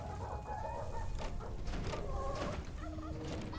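Chickens in the Dungeons 4 video game cluck and squawk in a busy, overlapping flurry of short calls, close and moderately loud, with no talk.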